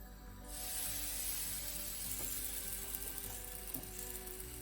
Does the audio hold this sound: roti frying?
yes